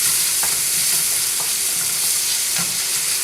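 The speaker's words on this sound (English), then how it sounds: "I'm just going to let these saute" Onions sizzle in a hot pan, a steady, loud, close frying hiss with a few faint clicks from stirring, no voices.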